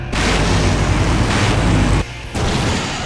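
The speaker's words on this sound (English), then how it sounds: "Now that's an explosion, ladies and gentlemen." A loud, sustained explosion rumbles and roars in the remastered adventure game Full Throttle, cutting out briefly before the blast noise resumes, with no talking.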